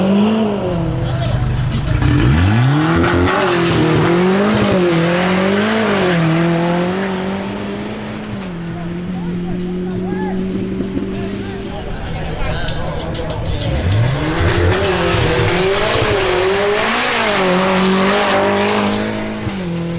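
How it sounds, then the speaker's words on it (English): A Volkswagen Golf GTI makes a drag racing pass: the engine revs and shifts repeatedly through rising and falling pitch sweeps, with tire noise and a continuous roar under steady commentary. "Next to make a new pass is Nicolas Gomez in his Volkswagen Golf GTI"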